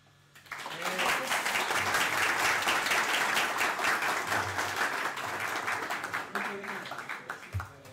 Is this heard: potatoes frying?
no